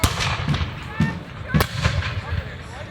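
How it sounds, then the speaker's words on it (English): British artillery and musket fire at a 250th anniversary re-enactment of the Battle of Great Bridge: a series of sharp, distant bangs spaced roughly half a second apart, heard outdoors under a narrator's voice. "they will begin to employ their artillery to bombard the Virginians"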